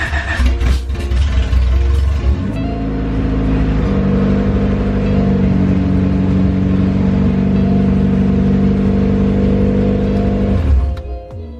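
A Honda B18C engine in a Honda EG fires up for the first time, cranking briefly before settling into a steady, loud, close idle that runs evenly for about eight seconds, then cuts off.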